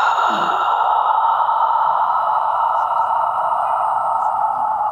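A long, steady breath is pushed out during a yoga shoulder-strengthening exercise, a continuous airy hiss that holds at an even level for several seconds, close and alone.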